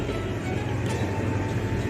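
A train pulling into a crowded station on a foggy afternoon, heard as a loud, continuous rolling rumble with no breaks.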